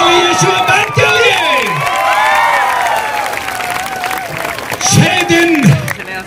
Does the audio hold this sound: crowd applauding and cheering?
yes